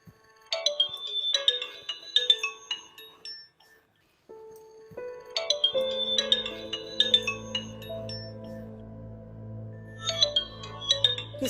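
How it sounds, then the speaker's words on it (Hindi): A mobile phone rings in a home scene in a TV drama, playing a bright repeating melodic ringtone in three bursts with short gaps. A low sustained musical tone enters underneath partway through. "और फोन बज रहा है, उठाओ जरा।"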